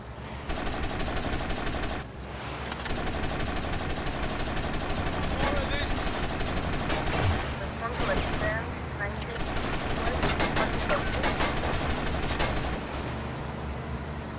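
Dense, loud gunfire in GTA Vice City Definitive Edition, with rapid machine-gun bursts and scattered shots running almost continuously, joined by occasional voices.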